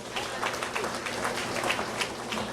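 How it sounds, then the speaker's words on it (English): Round of applause at a post-budget forum of credit unionists, a crowd clapping steadily, moderately distant and even in level. "Let us give him another round of applause."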